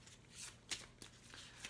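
A romance tarot deck being shuffled by hand, giving a few quick papery riffles and flicks close up over a faint low hum, with no voices.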